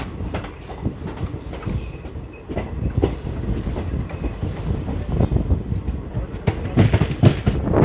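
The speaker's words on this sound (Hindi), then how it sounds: "दोस्तों आधे घंटे डिले के साथ हमने ट्रेन अब गुड़गांव रेलवे स्टेशन से निकल चुकी है" Rolling out of Gurgaon station, the Delhi–Jodhpur superfast express gives a loud, continuous onboard rumble with rhythmic clickety-clack from the wheels, growing slightly louder toward the end.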